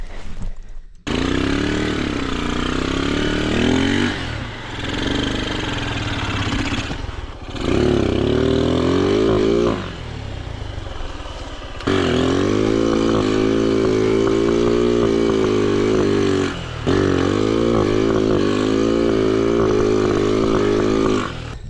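A motorcycle engine revs hard in repeated bursts while struggling uphill, straining and dropping between pushes, loud and close.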